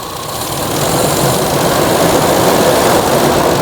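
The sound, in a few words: motorcycle engine running during carburetor tuning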